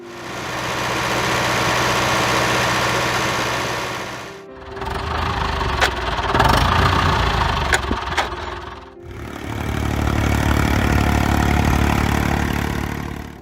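A David Brown 990 tractor engine runs in a steady, loud mid-pitched drone with a rough knocking texture, fading out and returning twice over the span.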